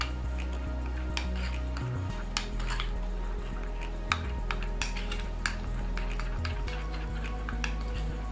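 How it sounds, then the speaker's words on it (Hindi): A spoon stirs cocoa powder into oil in a bowl for cake batter, making steady scraping and clinking against the bowl, close and continuous, with a low hum underneath and no talking. "अब इसमें मैं कोको पाउडर डालूंगी 1 टीस्पून, और इसको मिक्स कर लेंगे अच्छे से"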